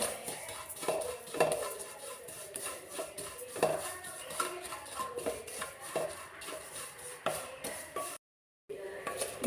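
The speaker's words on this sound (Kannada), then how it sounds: "ಸ್ವಲ್ಪ ಅದನ್ನು ಬಿಸಿ ಮಾಡಿಕೊಳ್ಬೇಕು ಸಾವಿಗೆಯನ್ನು ತುಪ್ಪದೊಟ್ಟಿಗೆ" Vermicelli roasting in ghee in a pan for vermicelli payasa, with steady scraping and stirring of a utensil against the pan and a soft sizzle underneath, close and continuous with no talk.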